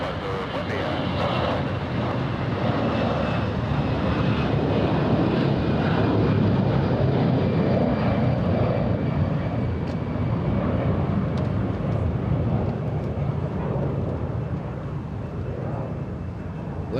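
Avianca jet airliner departing Los Angeles International Airport, a steady distant engine rumble and roar, slightly gusty with wind noise, with faint speech and radio chatter underneath.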